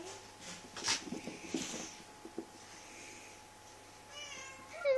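Small kittens meow indoors in a few short, high cries spread across a quiet room with faint background hum, fairly soft and close.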